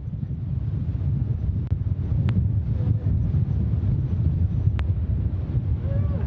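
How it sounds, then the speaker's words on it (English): A cargo rocket's first stage engines burn during launch, producing a steady, loud, broadband low roar that holds constant without pauses, like heavy rushing wind. "This first stage burns for a little over 3 minutes"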